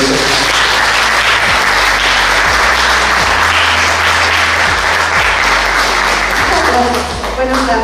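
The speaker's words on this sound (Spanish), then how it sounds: "Les pido que me demos un aplauso" Loud, dense audience applause fills the room at the start of a medical lecture, a continuous roar of many hands clapping that holds steady and fades only slightly at the end, with a low hum underneath.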